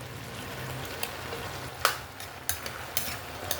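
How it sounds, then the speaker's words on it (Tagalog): Chicken liver going into a pan of sautéing sayote, with a steady sizzle and frying hiss under a few sharp clicks and stirring knocks of a utensil against the pan. "Lagay na natin yung atay."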